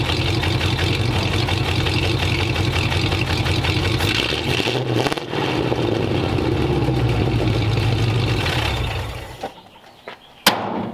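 A 1929 Ford Roadster Pickup idling through a newly built exhaust, a close, mellow, pulsing low rumble that rises briefly, then settles and fades near the end, followed by a couple of sharp knocks.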